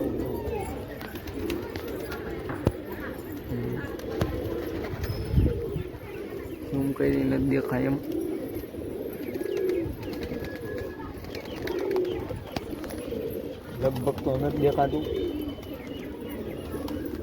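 Pigeons kept in a rooftop loft coo with soft, low repeated calls under someone talking, with faint chirps and outdoor background noise.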